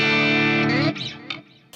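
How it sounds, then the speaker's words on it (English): An electric guitar is heard through a Vox AC30 amp model on an Axe-Fx III: a sustained, ringing chord that breaks off into short, choppy notes and brief scratches. "Switching to the Vox AC30."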